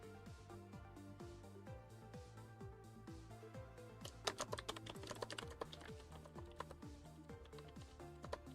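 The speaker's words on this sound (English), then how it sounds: "Just quickly typing out the response." Rapid typing on a computer keyboard, a dense run of light key clicks with a brief flurry of heavier strokes midway, close and steady throughout.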